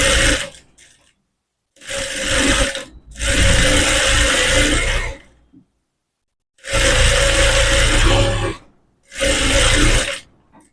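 A sewing machine stitches umbrella fabric in several loud, steady bursts of whirring motor and needle, separated by short pauses of near silence.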